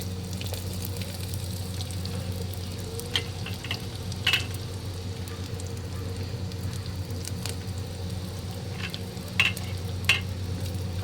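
Chopped onions sizzle in hot oil in a clay handi pot for handi chicken, a steady frying hiss close by with occasional stirring knocks and scrapes and no talking.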